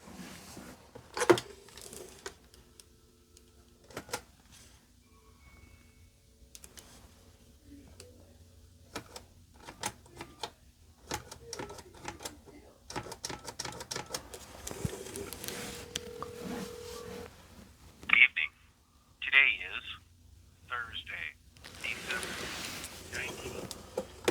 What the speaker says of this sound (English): See if it dials out